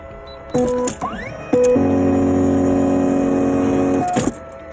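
An STvega Apl Pel H700 fruit peeling and cutting machine starts with a short whir, then runs with a steady loud motor drone and mechanical hum for a few seconds before stopping with a clunk.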